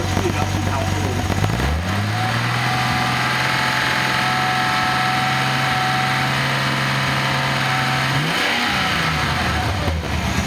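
A Nissan 280ZX turbo engine running on a 300ZX Z31 turbo ECU climbs from idle into a sustained rev, holds steady for several seconds, then rises once more near the end, loud and close throughout.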